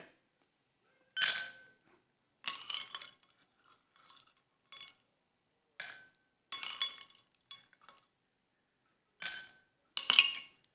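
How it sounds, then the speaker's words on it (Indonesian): Ice cubes dropped into a glass while making iced palm-sugar coffee with milk, a series of bright separate clinks and rattles in short bursts, with quiet pauses between them and no talk. "Yang pertama, saya masukkan es batu secukupnya."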